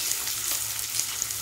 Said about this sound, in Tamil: வெங்காயம் வந்து நல்லா பொன்னிறமா வதங்கட்டும்